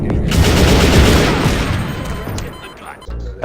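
Heavy gunfire in the Garry's Mod video game, a dense rattling burst of rapid shots that stays loud and close, then fades toward the end.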